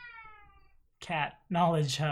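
A pet cat gives a short, soft yawn-like meow, then a person talks over it briefly.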